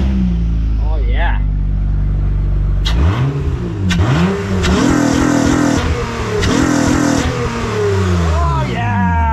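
A naturally aspirated minivan engine with its intake removed revs up in several loud bursts over a steady idle, nearby and prominent, with a voice heard briefly at the start.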